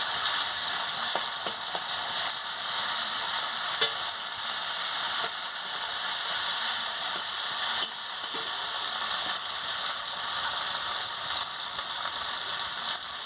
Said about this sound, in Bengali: দিয়ে মশলাটাকে ভালো করে ভেজে নিচ্ছি